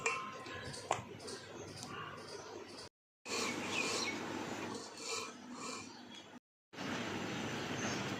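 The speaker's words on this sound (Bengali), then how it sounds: "আমি এতে করে ঘষে নেবো ঘষলেই সব রসগুলো দেখো কী সুন্দর রস বেরিয়ে যাচ্ছে" Watermelon is rubbed by hand against a grater to press out juice, making quiet, rasping scrapes in uneven strokes with short pauses. A voice talks softly over the grating.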